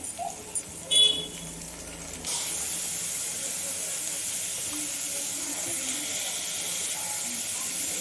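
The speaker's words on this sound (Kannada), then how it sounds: "ನೋಡಿ, ಕರ್ಬೇವಿನ ಸೊಪ್ಪು ಹಾಕ್ತಾಯಿದ್ದೀನಿ." Curry leaves drop into hot oil for beetroot palya and set off a sudden, steady sizzling hiss that carries on loud and unbroken after a few soft kitchen knocks.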